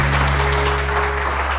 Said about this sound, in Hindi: ज़ारा के लिए बहुत सारी तालियां